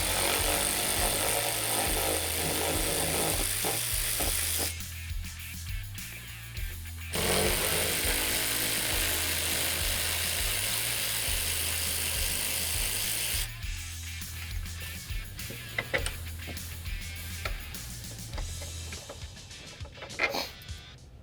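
A power driver works on T40 Torx screws inside the cab of a Polaris RZR Pro XP, loud and close, with a steady low motor drone broken by pauses and clicking ratchet-like bursts over about twenty seconds.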